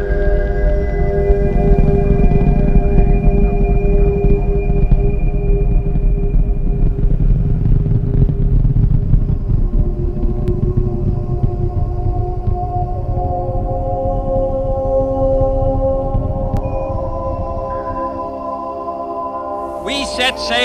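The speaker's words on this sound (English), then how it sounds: "Liftoff on Apollo 11." Apollo 11 rocket liftoff, a deep sustained rumble with crackling roar and tonal hum rolling on for about twenty seconds, heavy and constant, slowly thinning toward the end.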